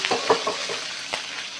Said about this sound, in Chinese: 尽量是大火把锅的温度升上来，小火来煎，中火来煎，煎香煎透